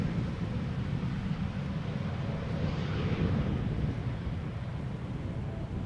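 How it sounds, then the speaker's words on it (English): Distant Boeing 737 jet heading outbound behind clouds near Amsterdam Schiphol Airport, a faint, low, steady rumble mixed with wind noise, with no talk. "I'm also hearing something outbound. Probably somewhere behind the cloud. Yeah. Sounds like a 737."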